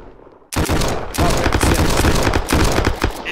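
Dense automatic gunfire in a VR battle royale shooter, loud and close, with sustained bursts and rapid overlapping shots after a brief quiet start.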